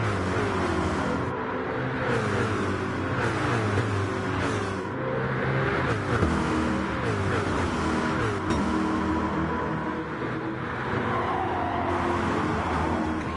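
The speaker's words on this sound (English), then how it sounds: "hear the sliding of tyres as they go through that first corner" Racing cars in the NASCAR GT video game at the Japan 150 race, tyres sliding through a corner over a dense, continuous roar of engines revving and shifting pitch throughout.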